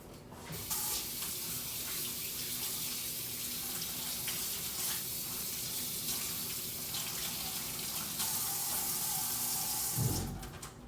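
Tap water runs steadily into a sink while hands are washed, a continuous close splashing rush that shifts slightly in tone as the hands move and stops abruptly near the end, with no talk.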